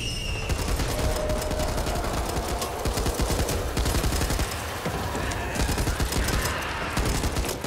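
Rifle gunfire in the video game Back 4 Blood: dense, rapid bursts of shots that keep going without a break, loud and close, with no speech.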